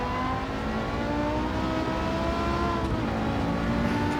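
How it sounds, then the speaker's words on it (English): Car with a regular, non-sports exhaust in Gran Turismo 7, driven in VR: a continuous engine drone with rising and falling harmonic whine as it revs, fairly loud and steady with no talking. "It doesn't sound like it has sports exhaust or anything like that, racing."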